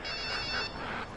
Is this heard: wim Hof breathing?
no